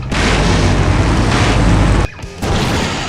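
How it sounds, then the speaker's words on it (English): A large explosion in the remastered Full Throttle video game, a loud sustained rumbling boom that stops abruptly, dips briefly, then resumes as a lower roar. "Now that's an explosion, ladies and gentlemen."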